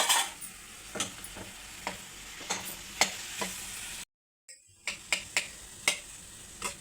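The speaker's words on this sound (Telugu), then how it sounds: "కొద్దిగా ఆయిల్ వేసుకొని కలుపుకుందాం" A bread bonda mixture gets stirred by hand with a little oil, giving soft, regular squelching pats at close range, interrupted by a brief gap of silence, with no talk.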